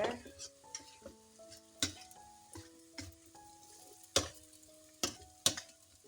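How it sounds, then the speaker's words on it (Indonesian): Tempeh dropped into a pan and stirred, sharp utensil scrapes and clacks at irregular intervals over a light sizzle, with steady tonal background music underneath. "Jadi kita sekarang masukkan si tempenya."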